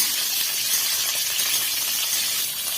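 Bitter gourd cut into long strips frying in hot oil, giving a dense, steady crackling sizzle that stays close and loud throughout without pause.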